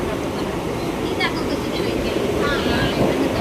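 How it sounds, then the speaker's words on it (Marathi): A Mumbai local train on the slow line gives a steady, loud rumbling roar of wheels and carriages that continues throughout, with faint higher squeals partway through. "तेच ही ट्रेन, लोकल ट्रेन"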